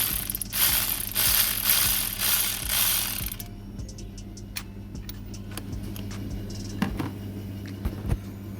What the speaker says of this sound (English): Let me get the ratchet and everything and we'll do it.